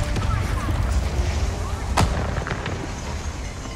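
A single sharp explosion cracks out during gameplay of Avatar: Frontiers of Pandora, a short loud boom that cuts through constant low rumble and game ambience.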